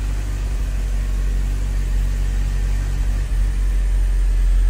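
A 2015 Chevy Sonic, freshly repaired with a new ignition coil, coolant recovery tank and cleaned mass air flow sensor, idles smoothly with a steady, close low rumble and no interruptions.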